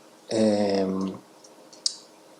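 A computer mouse's middle button gives one sharp, quiet click while navigating in Blender 3D. A short humming tone comes just before it, and the click then sits alone in near silence.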